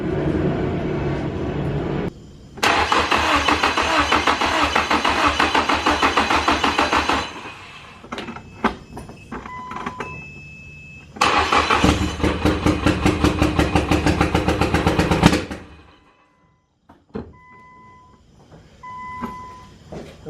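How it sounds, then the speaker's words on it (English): A Nissan Silvia engine on starter fluid cranks and catches in two loud bursts of rapid, rhythmic chugging, each several seconds long, then cuts out abruptly, with short mechanical clicks and tones in the gaps between. "it started on starter fluid"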